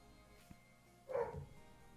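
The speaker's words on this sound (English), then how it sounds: "My dogs are borking." Dogs let out a short bark indoors, a single muffled bark rising briefly over a quiet background.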